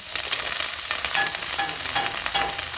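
Potatoes frying in an old-style kadhai over a wood-fired stove, with a steady, close sizzle and crackle running throughout and no voices.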